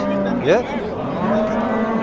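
A cow moos once, loud and close, with a rising bellow at a busy cattle market, a steady crowd hum beneath.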